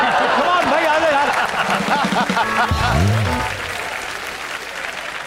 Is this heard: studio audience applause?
yes